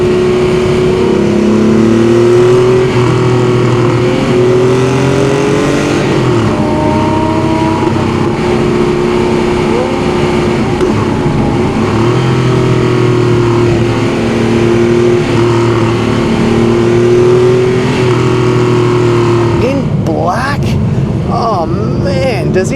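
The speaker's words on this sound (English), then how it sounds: "He's had an exhaust done on it. I think it's a Sharkwerks. Mark, sorry if I got that wrong. So it sounds unbelievable" Porsche 997 GT3 fitted with a Sharkwerks exhaust, driving along a mountain road, with a steady loud engine note that rises and falls through gear changes, mixed with talk throughout.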